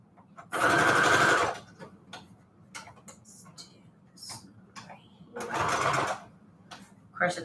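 A sewing machine stitches fabric onto manila tags in two loud bursts, one long at the start and another near the end, with quieter handling noises and brief pauses between them.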